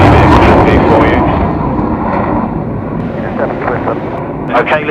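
Military aircraft engines roar loudly during departures at the Royal International Air Tattoo, a dense, close rumble that eases slightly as it continues, with radio voices audible over the noise.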